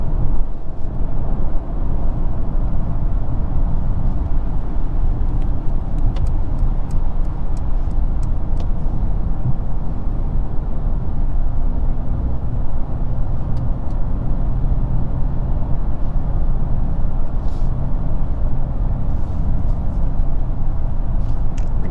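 Steady broadband road and wind noise inside a 2022 Mercedes C300 4matic cruising at highway speed, a smooth, constant low rumble with faint ticks, no voices.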